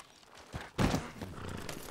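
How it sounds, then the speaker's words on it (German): Horse hooves in Red Dead Redemption 2 thud and clop in a short burst, moderately close, over a soft outdoor game ambience with no talk. "Ah, da ist mein Pferd."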